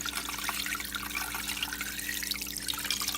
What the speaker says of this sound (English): now I'm just going to add my water down in here